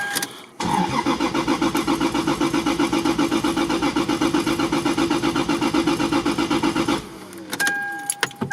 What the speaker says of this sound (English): All right, there's our crank.